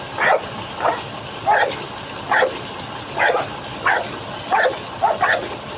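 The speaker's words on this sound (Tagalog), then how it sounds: "oh, mga malalaking aso." Dogs bark repeatedly at a steady pace, about seven barks, at moderate distance over a hissy background.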